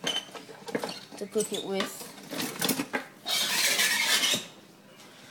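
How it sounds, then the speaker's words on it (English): A metal fork is fished out of a pile of cutlery in a home kitchen: busy, close rattling and clinking of silverware, then a harsher sustained scraping rustle, with a person talking briefly over it. "So I'm gonna get a fork or something"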